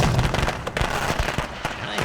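Fireworks launching in the video game The Sims 3, a rapid scatter of popping, crackling bursts that fill the moment, with a voice murmuring faintly underneath.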